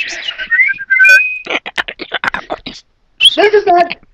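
A few short, clear whistled notes, then a quick run of sharp clicks and a voice nearby.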